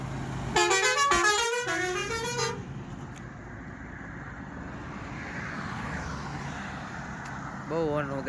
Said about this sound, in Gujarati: બહુ હોર્ન વગાડ્યો